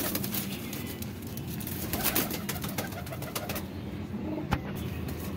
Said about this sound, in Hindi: ये देखें जी वीवर, उड़ी उड़ाई कबूतरी है